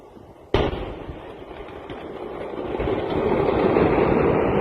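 Fireworks go off in Beirut during the explosion event: one sharp, close bang opens, followed by a dense crackling roar that swells steadily louder and continues to the end.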